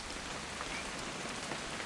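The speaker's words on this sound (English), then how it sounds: "It's gonna rain the whole weekend, isn't it?" Rain falling steadily in the video game What Remains of Edith Finch, a dense, even hiss of drops across the whole scene with no talking over it.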